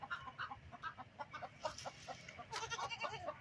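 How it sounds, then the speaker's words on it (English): A lost pygmy goat in a backyard with chickens gives a string of short, fairly faint bleating calls in an uneven rhythm over a quiet outdoor background. "we found a lost pygmy goat"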